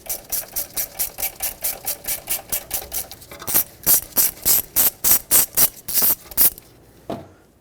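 Hand ratchet loosening the 10mm ABS sensor bolt on the steering knuckle of a 2006-2010 Hyundai Sonata, a long run of steady, even clicks that turn louder and sharper midway, ending with one last click.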